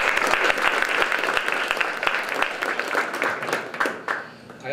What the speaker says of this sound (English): a big round of applause for Marilyn and for the Mercury